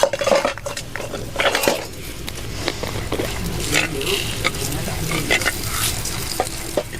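Red chillies and curry leaves frying in oil in a pan for a horse gram (ulavalu) chutney, with steady stirring and utensil scraping over a low sizzle, close and fairly loud.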